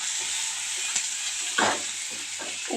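Onion sautés in a hot pan with mustard seeds and urad dal, giving a steady close sizzle with a few brief stirring scrapes.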